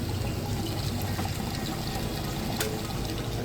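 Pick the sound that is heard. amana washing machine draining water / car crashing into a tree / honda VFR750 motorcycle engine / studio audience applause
amana washing machine draining water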